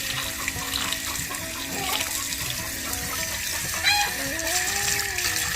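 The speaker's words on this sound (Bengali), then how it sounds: "দেখো মাছগুলো বেশ সুন্দর করে জলে ধুয়ে নিচ্ছি" Tengra fish are washed in water, with steady splashing and running water close by and chickens clucking in the background.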